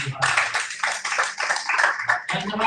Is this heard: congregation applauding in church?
yes